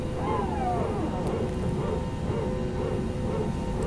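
Airbus A321neo power transfer unit in X-Plane 11, the ToLiss model with Pratt & Whitney engines, giving a steady, loud barking-dog drone with rising and falling whines throughout, set against engine hum.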